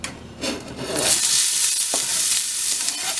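Chopped onion drops into olive oil in a pan for turkey chili, with a short stir and clatter at first and then a loud, even, close sizzle that holds steady to the end.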